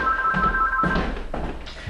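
A telephone rings with a steady electronic trill, mixed with a few dull thunks and taps that sound close by, and no talking.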